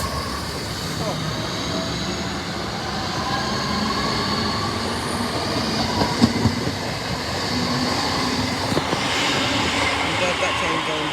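Train rolling through Bournville station, a continuous rumbling roar with faint wheel squeal and clatter, fairly close and steady throughout, with a person briefly talking over it.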